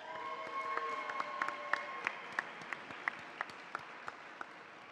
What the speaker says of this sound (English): Before we continue, let's have another round of applause for Dr. Loco and for Diana Gameros.